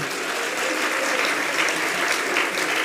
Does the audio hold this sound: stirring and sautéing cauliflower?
no